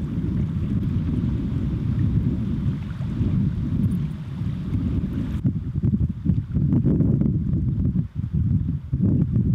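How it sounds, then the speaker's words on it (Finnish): Steady north wind roars and buffets across an outdoor microphone in the Finnish wilderness, dense and continuous, with low gusty rumble and occasional sharper buffeting bursts. "Tää on vähän tämmönen tuulinen sää. Pohjoistuuli."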